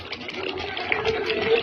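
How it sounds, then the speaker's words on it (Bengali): Water being poured into a pan of chicken simmering in spice masala, a steady wash of splashing and gushing that runs close and continuous for the whole moment with no voices. "এবারে আমি এতে জল ঢেলে দেবো"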